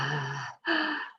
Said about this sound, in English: we're going to be breathing heavy breath like a lion through the mouth